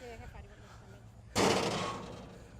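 An Elide Fireball fire extinguisher ball set off in a fire, a sudden loud burst partway through after a quiet crackling lead-in, then a fading rushing hiss; a voice is heard faintly before it.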